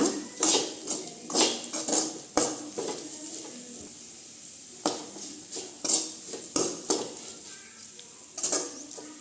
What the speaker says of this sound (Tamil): இன்னும் கொஞ்சம் நேரம் நல்லா வதக்கிக்கலாங்க